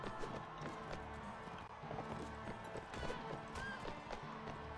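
In Mount and Blade Warband, a horse gallops with rapid, rhythmic hoofbeats that blend into a busy, faint battlefield din.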